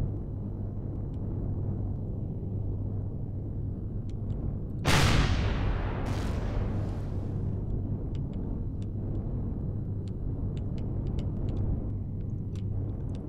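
Gunfire in the space survival game Empyrion aimed at the player: a sharp loud blast near five seconds, another burst shortly after, then scattered faint snaps over a constant low engine-like hum.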